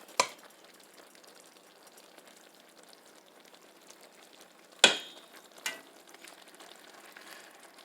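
Meat for pepper steak frying in a pan, a soft continuous sizzle heard alone with a few sharp clanks or stirring knocks near the start and later on.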